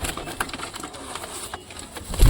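Pigeons coo at a dovecote in a soft, repeated, throaty run close by, over low background noise, ending in a louder bump.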